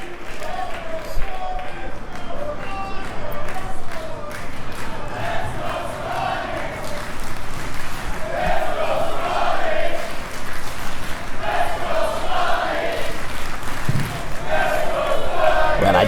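Pro wrestling crowd in Malta cheering and chanting at a live match, a loud, continuous roar with rising swells and chant-like surges that fill the whole stretch.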